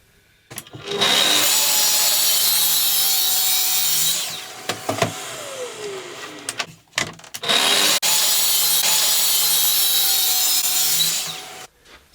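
A saw trimming wooden shelves to length for an alcove unit, cutting in two long steady stretches of harsh rasping strokes separated by a few knocks and clatters, close and loud with no talk.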